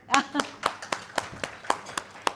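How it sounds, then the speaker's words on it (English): A few guests clapping at a post-wedding dinner, sparse distinct hand claps in an uneven rhythm, fairly close, with a voice murmuring faintly beneath them. "Give yourselves a clap."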